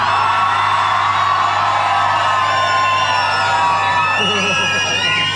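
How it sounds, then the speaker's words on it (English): A live radio show audience at the Tamworth Country Music Festival roars with cheering, whoops and shouts, a dense sustained crowd noise that rises again near the end. "give yourselves the biggest cheer you've ever given each other"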